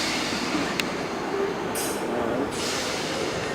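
A Class 321 electric multiple unit departs Chelmsford station with a steady, loud rumble of rolling wheels and motors, broken by brief brighter bursts of rail hiss, heard close with no talking.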